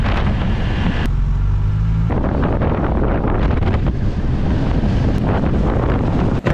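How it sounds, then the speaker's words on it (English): Strong wind buffets the microphone along the rocky shore by the Blue Hole dive site in the Sinai, Egypt, a loud continuous roar with gusty low rumbles and no speech. "It is super freaking windy here."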